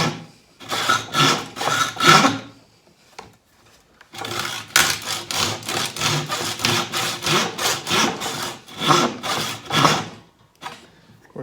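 A handsaw cuts through a live-edge maple slab with steady back-and-forth strokes, a short run of strokes, a pause, then a long sustained series, close and clear with no talking.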